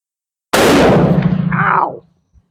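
A single loud, close gunshot from a Portuguese Vergueiro rifle fired with a handloaded cartridge, a sharp blast followed by a long decaying roar, then silence apart from a faint thump.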